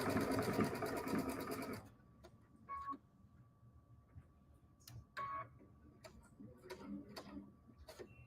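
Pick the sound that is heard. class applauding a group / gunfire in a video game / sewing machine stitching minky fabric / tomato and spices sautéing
sewing machine stitching minky fabric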